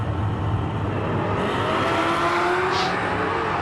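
Ford Maverick drag race car idling and revving at the starting line of a drag strip, a loud, steady engine roar filling the air with a gradually rising tone and no break.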